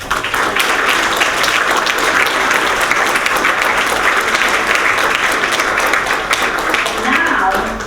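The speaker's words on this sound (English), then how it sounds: "So please give them the round of applause." Sustained audience applause at a memorial scholarship fundraising event, steady dense clapping from a crowd filling the room for about eight seconds with a murmur of voices underneath.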